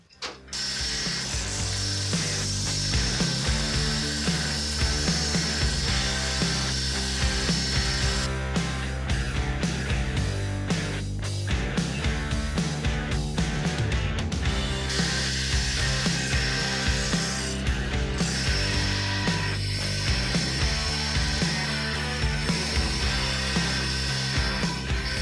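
A forged knife blade is ground to put in bevels, with a belt or grinder running loudly and continuously, its steady mechanical whir and rasp carrying rhythmic rattles and shifting pitch as the steel is pressed on.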